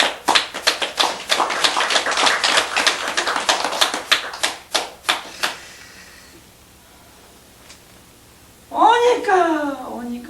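Audience applause at a Buddhist sermon, a loud crowd of clapping hands that slowly thins out and fades, then gives way to a quiet stretch before a voice begins speaking.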